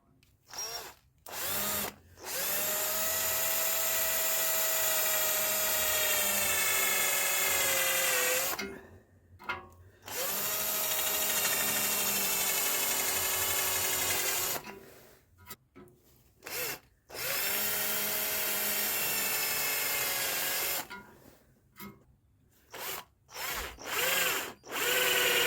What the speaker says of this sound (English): And drilling out the rivets.